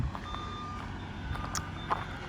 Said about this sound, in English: He had to reposition the truck